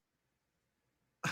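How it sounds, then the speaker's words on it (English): A single sharp cough bursts out at the very end after near silence, loud and close. "I got cough."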